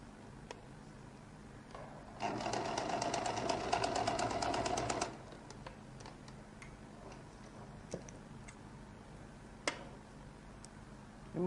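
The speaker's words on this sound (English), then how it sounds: "Sew by the side." A sewing machine stitches along the side edge near the collar of a lady's jacket: a three-second burst of fast, steady mechanical ticking, then quiet with a few stray clicks.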